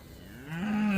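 A young calf on a farm lets out a single moo that rises and grows louder toward the end, heard alone.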